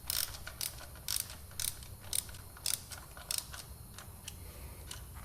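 A bolt on a Lextek rear set being tightened on a Yamaha MT-09 / FZ-09 motorcycle, heard as a series of quiet, evenly spaced ratchet clicks in short bursts.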